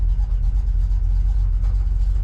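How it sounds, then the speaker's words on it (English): A 1959 Chevrolet Apache 3100 pickup truck drives along, its old engine producing a loud, steady low rumble with a slight pulsing throb, heard close and alone. "Today we're driving a 1959 Chevrolet Apache."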